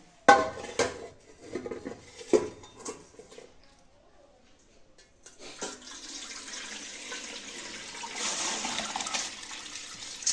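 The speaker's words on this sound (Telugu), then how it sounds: "ఈ బియ్యాన్ని ఇలా హోల్స్ ఉండే గిన్నె ఒకటి తీసుకుని ఇందులోకి వేసుకోవాలండి" Overnight-soaked rice for ariselu is tipped into a perforated colander: a few metal clatters and knocks first, then a continuous close rush of water draining through the holes.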